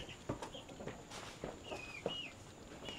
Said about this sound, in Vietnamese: Và có một vài chú gà ở trên này nữa này.